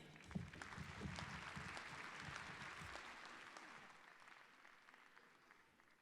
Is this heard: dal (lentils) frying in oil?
no